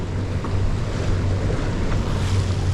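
Wind and water rush past a Hobie Cat FX One catamaran under sail, with a continuous roar of waves and wind gusting across the microphone over a steady low hum, and no voices.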